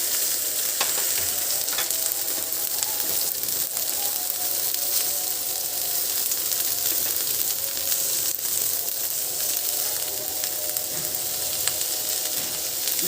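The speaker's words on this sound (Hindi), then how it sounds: "अब हम इसमें ये बंद गोभी और प्याज डाल देंगे।" Shredded cabbage and onion fry in oil in a pan, making a loud, continuous close sizzle with occasional stirring scrapes throughout.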